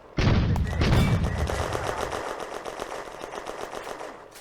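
In a WWII Eastern Front battle game, a gun fires a loaded grenade round on a German command: one loud blast right at the start, then a rumbling tail that fades over the following seconds.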